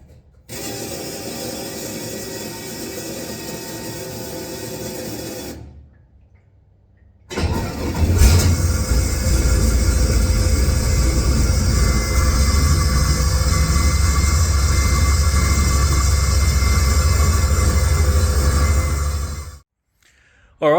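A Ford XG ute engine fitted with a new S400 turbo cranks and fires, then idles with a loud, steady, close rumble before cutting off, after an earlier stretch of steady running.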